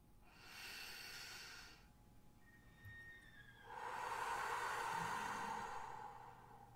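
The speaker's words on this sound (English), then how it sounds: "let's take a moment and take 4 deep belly breaths" Slow, deep belly breaths, close and quiet: a long inhale, a pause, then a fuller, louder exhale through the nose and mouth.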